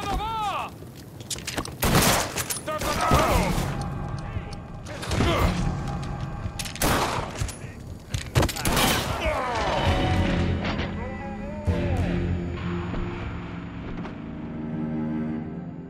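A grenade blast and bursts of gunfire in the video game Mafia 3, with sharp repeated bangs, booming crashes and metallic ringing, under shouted voices.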